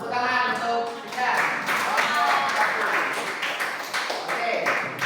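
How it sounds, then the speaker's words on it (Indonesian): A group claps after students finish a classroom demonstration, steady broadband clapping filling most of the five seconds, with voices talking over it. "Tepuk tangan untuk kita."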